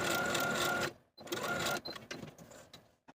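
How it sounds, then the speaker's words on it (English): A sewing machine set to its longest stitch runs gathering stitches in short close bursts, stopping and starting several times with brief quiet gaps and a few small clicks between runs. "I'm going to use the longest stitch on my machine and leave thread tails at both ends"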